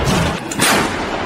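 A Bohdana self-propelled artillery gun fires near Toretsk, a single heavy, close blast that fills the brief moment with broad, booming noise and then rolls away.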